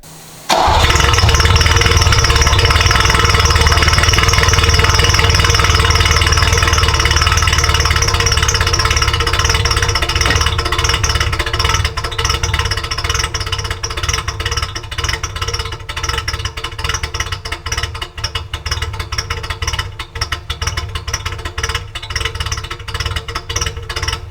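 Ferrari 308 engine cranking and catching, then settling into a loud, steady, close idle that runs on alone for over twenty seconds, with no talk.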